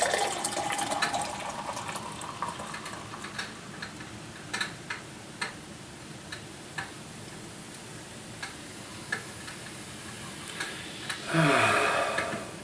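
Groennfell Old Wayfarer oaked amber mead, roughly three years old, pours in a continuous close splash and gurgle of liquid filling a glass, with faint clicks and a louder fizzing gush near the end.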